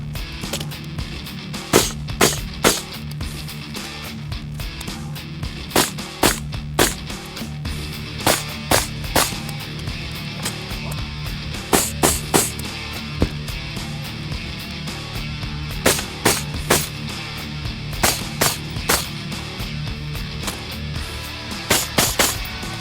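Rifle shots during a Viking Tactics 396 rifle drill on a range, sharp loud cracks fired in quick pairs and clusters with short pauses between strings, repeating across a long stretch, no talk in between.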